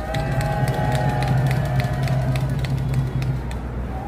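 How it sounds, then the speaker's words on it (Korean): An outdoor protest rally crowd in a plaza claps and cheers for a doctors' association official taking the stage, the applause steady and fairly loud over a constant low hum from nearby traffic. "큰 박수 부탁드리겠습니다."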